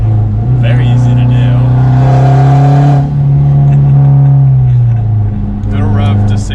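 A Mazda Speed3 engine revs up to around 6,800 rpm, a loud nearby rising and falling drone with strong harmonics lasting several seconds, with people talking over it.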